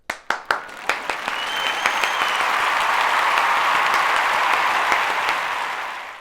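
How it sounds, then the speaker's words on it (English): A round of applause from a crowd, opening with a few separate claps that swell quickly into dense, steady clapping, then fading slightly toward the end. "Give yourself a round of applause."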